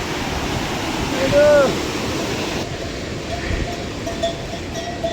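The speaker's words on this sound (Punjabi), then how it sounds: "ਦੇਖੋ ਜੀ ਪਾਣੀ ਦਾ ਸ਼ੋਰ" Loud, continuous rush of a mountain stream on the Hemkund Sahib trek fills the scene, steady and broadband, with a brief tone and faint voices in the background.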